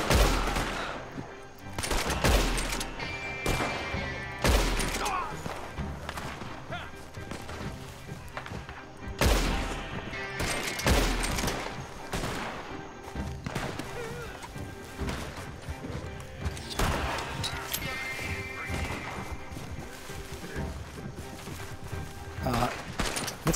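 Gunshots in Red Dead Redemption ring out as sharp, loud single cracks and short volleys scattered irregularly, with hoofbeats and game ambience around them and occasional speech.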